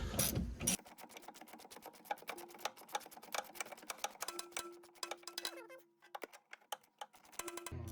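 Rapid metallic ratcheting clicks from a 14mm wrench working the rear shock bolt on a 2015-2020 Honda Fit, a close, fast clicking run with brief pauses and a faint hum.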